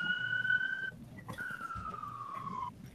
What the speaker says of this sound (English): fuck you, sirens